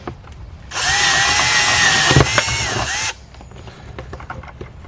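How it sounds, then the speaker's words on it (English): A power drill bores a hole through the lid of a plastic garden bucket, one steady high whine lasting a couple of seconds and then stopping, close and loud with no talk. "for the top of that bucket I'm going to drill a hole in it"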